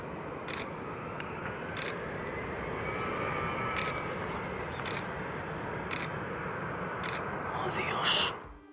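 A passenger airplane on the ground at Barcelona airport hums in a steady, distant engine roar with a faint whine rising and falling, while voices murmur in the background; the roar swells briefly near the end.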